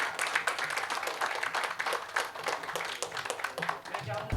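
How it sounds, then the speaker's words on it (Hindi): Audience at a mushaira in Pune clapping to welcome the poet: moderately distant, continuous scattered applause with a faint voice near the end. "जोरदार तालियां हो जाए गुरु जी के लिए"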